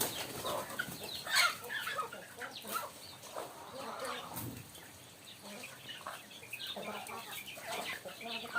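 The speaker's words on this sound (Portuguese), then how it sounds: "Olha as galinhas comendo." Chickens feed in a yard on a rainy day, with scattered clucks, faint pecking and brief wing flaps over steady outdoor background noise; a few voices murmur at a distance.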